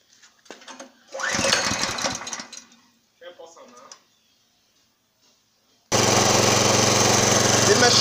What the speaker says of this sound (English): The machine is running at a very low RPM. I will increase the speed of the machine now to produce its optimal power.